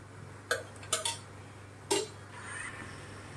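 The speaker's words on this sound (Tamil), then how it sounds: "வாணலியை வச்சுக்கிட்டு ஒரு 2 கரண்டி எண்ணெய் ஊற்றிக்கிங்க" Several sharp metallic clinks as a kadai is set on a home stove for egg kulambu, three close knocks followed by a fourth, then a soft, faint pouring hiss of oil over a low steady hum.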